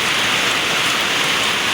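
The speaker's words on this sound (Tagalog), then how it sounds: "Sobrang lakas ng ulan." Heavy rain pours down steadily, heard from a terrace, a dense, loud, unbroken hiss of drops drumming on surfaces with no pauses or voices.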